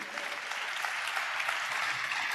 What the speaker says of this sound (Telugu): చప్పట్లు కొడుతూ చప్పట్లు కొడుతూ హల్లలోయ